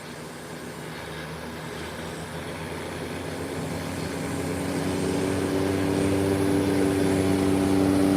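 Small propeller aircraft on a short takeoff run, a steady droning engine and prop buzz that swells louder as power builds, heard alone without voices.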